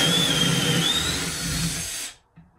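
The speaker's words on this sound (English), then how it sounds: "use a Torx 40 bit and a drill" A power drill with a Torx 40 bit whines steadily at high speed for about two seconds while installing cabinet door hinges, then stops abruptly, leaving a brief faint clunk.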